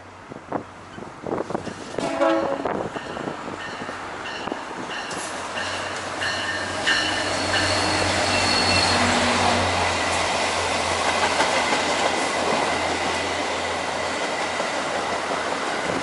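A train passes close by, starting with clattering wheel and rail noise and swelling into a loud, steady roar of railcars rolling past, with faint wheel squeal over the rumble.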